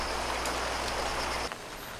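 Sudden rain shower pouring down at a vineyard during grape harvest, a loud steady hiss of dense rainfall that drops slightly in level near the end, with no voices.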